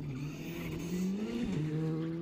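A Skoda R5 rally car engine roars continuously during a British Rally Championship round at Haspengouw, its pitch shifting as it drives, with faint tire noise; no speech.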